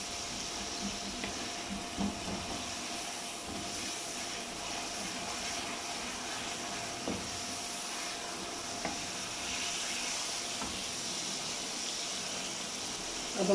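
Masala spices frying in ghee in a pan for an arbi (taro root) dish, a steady soft sizzle throughout with a few small pops, close and fairly quiet with no talk.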